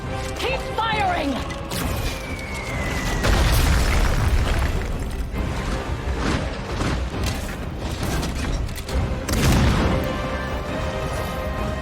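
Cannon fire and explosions from a World of Warcraft: Battle for Azeroth cinematic battle, with heavy booms and crashes rolling over a dense bed of score and voices, peaking loud around the middle and again near the end.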